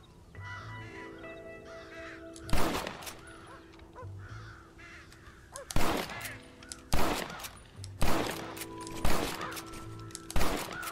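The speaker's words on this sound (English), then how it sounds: "Damn crows." Crows caw repeatedly in Red Dead Redemption's western game world while sharp, loud gunshots crack out in separate bursts over the calls, with no talking.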